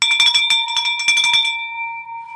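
A celebratory bell rung by hand to mark a property sale going under contract in High Point, North Carolina, with rapid repeated strikes for about a second and a half, then a bright ringing tone left to fade out alone.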